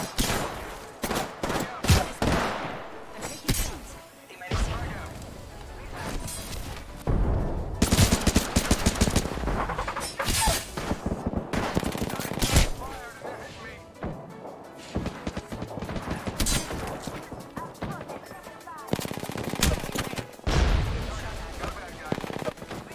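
Rapid bursts of gunfire from a sniper-focused video game shooter, loud and close, with repeated volleys and short pauses across the stretch, dense and continuous with occasional heavy impacts.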